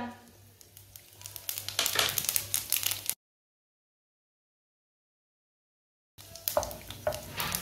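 Whole cumin seeds crackle and sizzle in hot ghee for a Punjabi-style dish, with a busy frying hiss and light stirring that cuts out to silence for a few seconds before resuming.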